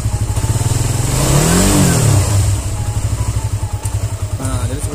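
A Suzuki GSX-S150R engine idles with a fast pulsing beat, then is revved once, rising to a loud, close whine and falling back. A short blip follows near the end, with a voice faintly in the background.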